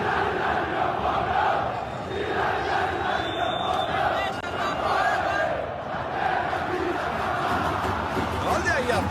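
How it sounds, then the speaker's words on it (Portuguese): Botafogo football supporters celebrating in a stadium, a dense, continuous roar of massed chanting voices heard from a distance, steady and unbroken throughout. "a torcida do Botafogo fez a festa, viu?"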